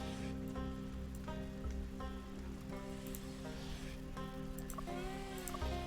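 Steady rain falls in the survival game Stranded: Alien Dawn, an even, continuous hiss of drops on surfaces over a low ambient drone and soft game music, with no voices.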